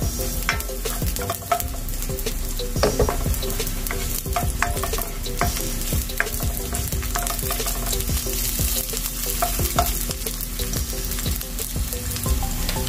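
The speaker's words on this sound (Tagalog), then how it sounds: "maglalagay tayo ng cooking oil sa ating cooking pan para igisa natin yung ating mga sangkap. Una natin ilalagay yung ating onion." Onion sautés in cooking oil in a pan, sizzling and frying steadily with frequent scraping and stirring clatter from a utensil, loud and close throughout with no talking.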